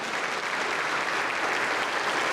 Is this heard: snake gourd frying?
no